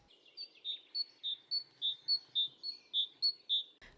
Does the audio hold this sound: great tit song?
yes